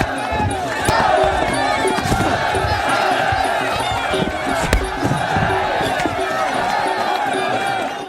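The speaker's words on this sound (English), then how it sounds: "With the crowd roaring, Billy walks toward the ring" A loud, dense crowd roars continuously at a prison boxing match in Bangkok, with a steady wash of voices and occasional sharp thuds and shouts rising through the din.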